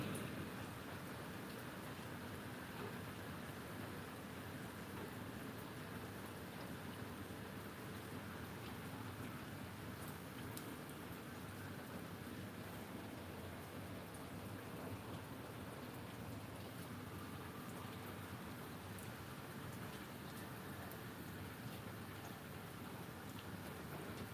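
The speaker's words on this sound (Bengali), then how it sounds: "এখানে বৃষ্টি হচ্ছে" Rain falling steadily during a rainstorm in Gausia, Narayanganj district, a continuous soft wash of drops on surfaces, faint and even with no pauses.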